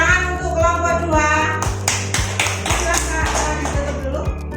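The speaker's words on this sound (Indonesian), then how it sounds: "tepuk tangan untuk kelompok 2" A classroom group of students claps for a presenting student group, a burst of rhythmic hand claps with voices underneath and low background music.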